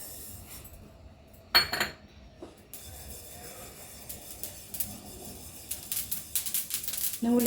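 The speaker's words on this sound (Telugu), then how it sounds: "తర్వాత నువ్వులు వేపుకోవాలి." Sesame seeds roast in a pan for a tomato chutney. After a few metallic clinks, a faint hiss builds into quick, irregular crackling and popping that grows denser toward the end.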